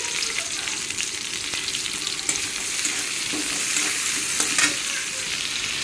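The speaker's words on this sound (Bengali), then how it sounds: "তেলটা গরম হয়ে গেছে দিয়ে দিচ্ছি পেঁচকুচি কাঁচা লঙ্কা চিরা" Onion and slit green chilies fry in hot oil, a steady loud hiss and crackle with occasional light scrapes and pops as the pieces settle.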